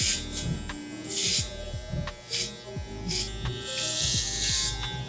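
Electric hair clippers buzz close up while fading a haircut with the grain, a steady motor hum broken by repeated short strokes as the blades pass through hair.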